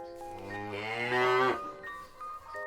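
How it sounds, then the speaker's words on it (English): A cow moos once in a long, drawn-out, rising low call, close and clear, followed by a brief quieter vocal sound near the end. "It's a cow."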